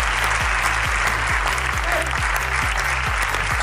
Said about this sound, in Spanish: Un aplauso que si no da vergüenza.